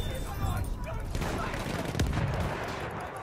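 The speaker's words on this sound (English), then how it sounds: "Machine gun activated." Machine gun fire in the World War I shooter Battlefield 1, a dense continuous fusillade of distant gunshots with one sharper crack, set within a loud battlefield din while a game announcer voice speaks.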